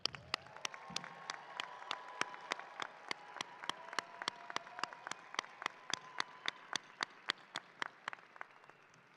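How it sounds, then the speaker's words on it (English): A medical school commencement crowd claps together, sharp claps landing in a steady rhythmic beat, fairly faint and distant, with a soft tonal hum running underneath. "congratulations and one more round of applause"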